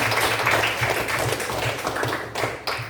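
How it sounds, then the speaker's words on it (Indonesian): A classroom of pupils claps together in a quick, rhythmic pattern. The claps are close and loud with steady repeated beats, ending in a few sharper final claps. "Tepuk tangan dulu buat kita semua."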